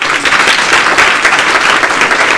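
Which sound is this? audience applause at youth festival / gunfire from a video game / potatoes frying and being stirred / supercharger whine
audience applause at youth festival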